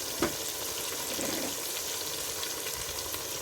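Cauliflower tossed into chicken frying in hot oil in a pan, giving a steady close sizzle and crackle that holds evenly throughout, with a brief clatter near the start.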